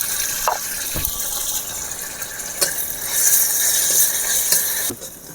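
A spoonful of garlic paste goes into a little hot oil in a wok and sizzles with a steady bright hiss that swells midway, broken by a few sharp clicks and clatters from the pan.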